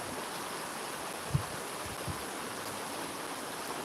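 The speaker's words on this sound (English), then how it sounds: "Got that little river noise." A small river flows steadily in the background, a constant soft broadband rush with a couple of faint low knocks, heard alone without talk.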